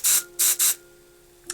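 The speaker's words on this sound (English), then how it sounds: "I'm going to use the Aussie High Hold, High Shine spray, and I'm just going to spray it on my hand," Aussie High Hold, High Shine hairspray is sprayed onto a hand in three short, close, loud hissing bursts, two of them quick in succession, followed by quiet and a brief final hiss.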